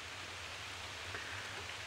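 A steady, even hiss of rain falls through a storm at a car-camping site, continuous and fairly faint, with no other sounds standing out.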